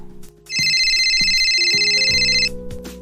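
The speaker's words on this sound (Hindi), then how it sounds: "तभी समीरा के फोन पे एक रिंग आया।" A mobile phone ringtone rings loud and close for about two seconds as two sisters walk home, a bright repeating electronic tone that then stops, leaving quiet background.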